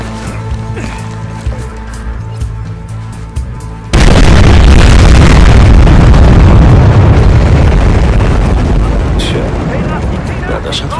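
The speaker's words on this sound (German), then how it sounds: "Das alte Messlabor ist hochgegangen." Old measurement lab blowing up in Battlefield Hardline on PC, a sudden massive explosion that cuts in after quiet game ambience and then rumbles on loudly with debris and roaring blast noise.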